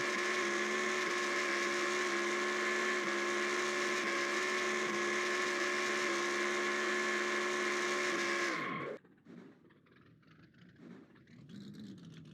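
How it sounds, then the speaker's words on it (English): Race car burnout in NASCAR Racing 2003 at New Hampshire, a loud sustained engine roar with screeching tyres holding steady for several seconds, then cutting off abruptly into faint background noise. "Is that the end of the burnout already?"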